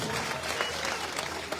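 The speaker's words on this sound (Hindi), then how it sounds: "आप अशोक गहलोत के लिए जोरदार तालियां" A crowd at an outdoor Scheduled Caste Congress rally in Rajgarh, Churu claps to welcome Ashok Gehlot, a brief, thick burst of applause filling the whole moment.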